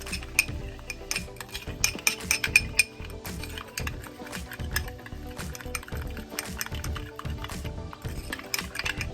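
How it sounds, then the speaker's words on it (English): Meatloaf mixture with a dash of Worcestershire sauce being mixed by hand, heard as soft, irregular wet squishes and light clinks of a utensil against a bowl, quiet and close. "let me just mix all of this up"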